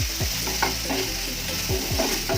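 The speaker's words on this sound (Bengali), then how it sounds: "পেঁয়াজ ভাজটা ভালো করে মিক্স করে নিচ্ছি" Fried onion with tomato pieces and grated radish being stirred in a hot pan: a continuous loud sizzle with repeated utensil scrapes every half second or so, close up, with no voices.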